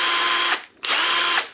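A cordless drill driver's chuck spins fast in its higher speed setting, giving two loud, steady whirring bursts of about half a second each, split by a short pause.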